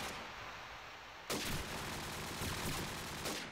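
Gunfire in the video game Crossfire during a Croatia vs Slovenia match, a dense, loud continuous rattle of shots that starts abruptly after a short muffled lead-in and keeps going with no pauses and no voices.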